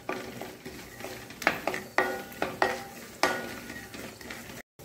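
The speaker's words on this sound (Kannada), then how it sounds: "ನೋಡಿ ಕೊಬ್ಬರಿ ಎಲ್ಲ ಸ್ವಲ್ಪ ಒಳ್ಳೆ ಫ್ರೈ ಆಗ್ತಾ ಬಂತು, ಎಲ್ಲ ಪಟ ಶಬ್ದ ಆಗ್ತಾ ಉಂಟು." Dry coconut frying in a pan for a poha chivda mixture crackles and pops in sharp, irregular bursts over a low sizzle, with stirring clinks close by before a sudden brief silence.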